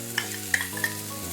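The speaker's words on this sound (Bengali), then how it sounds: "একটু নেড়ে নিচ্ছি" A utensil stirs and scrapes through bitter gourd frying in a pan, with a few sharp clinks over a low, continuous sizzle.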